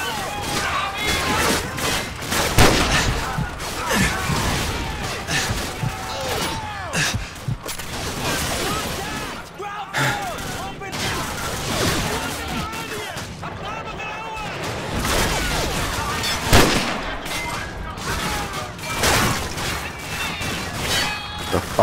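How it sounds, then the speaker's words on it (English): Dense, continuous gunfire from many weapons in the video game Call of Duty: Modern Warfare, with rapid shots, bursts and occasional heavier booms sustained throughout, with a voice talking over the battle at times. "Look at this, all people are shooting everywhere."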